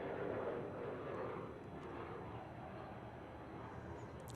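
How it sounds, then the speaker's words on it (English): A Southwest Boeing 737-700 approaching to land at Dallas Love Field sends a distant, low jet rumble that swells briefly and then holds at a soft, steady level, with no talking. "About to land a flight 1700, Southwest 737-700."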